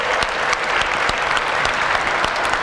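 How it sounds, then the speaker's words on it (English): Audience at a raspberry festival fashion show clapping for the candidates and royal family, dense sustained applause from a crowd throughout. "Let's just have another round of applause for all 8 candidates"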